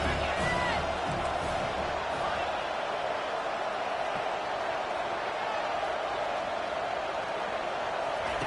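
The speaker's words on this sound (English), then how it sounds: "how nice is it to have the home crowd going absolutely bananas" Home crowd at a Clemson vs Tennessee college football game, a steady loud stadium roar of cheering that fills the whole stretch, with a commentator talking over it.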